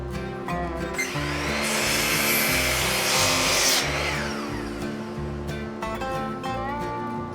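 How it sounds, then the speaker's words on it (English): Wood being cut with a power saw while building a hidden bookshelf door, a loud continuous whining buzz with a rising and falling cut in the middle, close and alone. "All right, let's get to cutting some wood."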